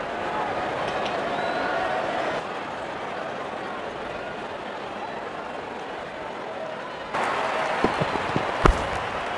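Stadium crowd cheering and applauding in the Real Cricket 24 video game as the openers walk out for an IPL match, a broad steady roar that swells louder with sharp bursts near the end.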